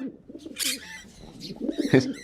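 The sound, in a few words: pigeon cooing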